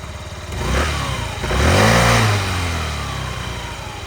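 A Yamaha Gear scooter engine, 2018 model, running on a cold-weather test ride, revving up in two swells then settling into a steady hum, close and loud, with no talking.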